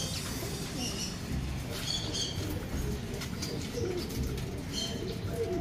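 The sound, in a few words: pet bird cooing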